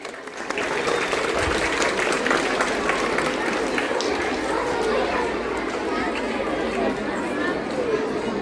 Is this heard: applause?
yes